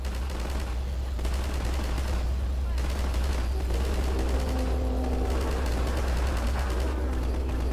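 Rapid, sustained gunfire in the video game Half-Life 2, a steady barrage of shots that stays loud and continuous, with some speech underneath.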